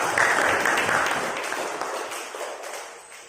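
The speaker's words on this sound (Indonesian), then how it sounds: "tepuk tangan untuk kita semuanya." Classroom applause from students after group presentations, a steady patter of many hands clapping that gradually fades toward the end.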